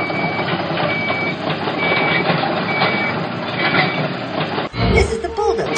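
A bulldozer in a cartoon tree-moving video game gives a loud synthetic engine hum with repeated high reversing beeps, then a brief electronic transition near the end, with game effects throughout.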